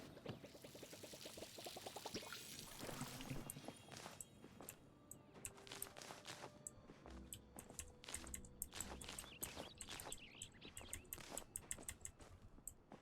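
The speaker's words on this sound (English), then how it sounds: "I gotta remember to water these." Water poured to water plants gurgles with a rising pitch as a container fills, then gives way to faint clicking, tapping and shuffling noises, all quiet and close.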